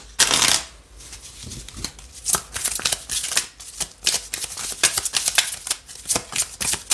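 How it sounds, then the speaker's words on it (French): A deck of tarot cards is shuffled up close, starting with a quick riffle and followed by a steady run of soft slapping and flicking cards. No one talks. "Je reprends 2 cartes du tarot et on va approfondir ici."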